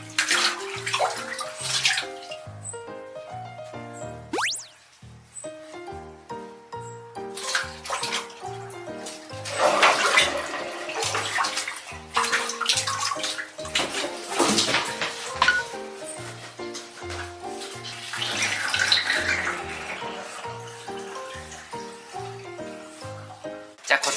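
A small-clawed otter swims and splashes in bath water, making a continuous sloshing, rushing wash with bursts of heavier splashing, heard close under steady background music.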